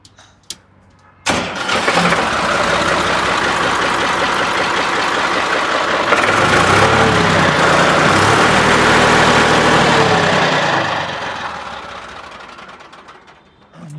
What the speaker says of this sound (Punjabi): ਬਾਕੀ ਆਪਾਂ ਸਟਾਰਟ ਸ਼ੁਰੂ ਕਰਕੇ ਦਿਖਾ ਦਾਂਗੇ ਟਰੈਕਟਰ